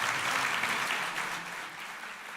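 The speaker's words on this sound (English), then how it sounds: "please give a nice round of applause to our panelists" Audience applauding panelists after a discussion: a dense wash of clapping that comes in full and then eases slightly, fairly quiet and heard without talk.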